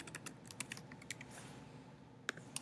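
A computer keyboard is typed on in quick, irregular clicks, faint and close, with a few sharper keystrokes and no voice.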